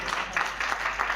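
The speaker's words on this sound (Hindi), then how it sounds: "ये एक बार कम तालियां हैं, फिर से तालियों के साथ हम अभिवादन करें।" Audience applause at an award ceremony in a hall, a steady, moderately loud wash of many hands clapping with no pauses.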